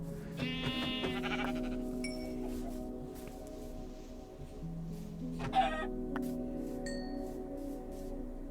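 Minecraft sheep bleat near the start and again midway, with clucking chickens and a brief crow mixed in over a steady low background hum.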